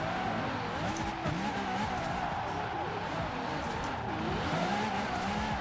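Car engine and tires in the racing video game Forza Horizon 4, a continuous wavering engine drone with squealing tires, steady and fairly quiet throughout.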